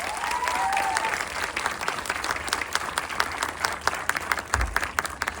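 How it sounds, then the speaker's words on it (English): A round of audience applause for the writers, dense clapping that starts full and thins into scattered individual claps, a brief voice heard at the start. "can we also have a huge round of applause for them?"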